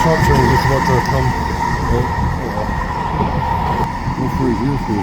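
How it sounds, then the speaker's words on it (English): An eastbound metro shop train drawing near along the line, a continuous loud rolling rumble with wheel and rail noise throughout, at close range. "Somebody across the eastbound shop train just about to come."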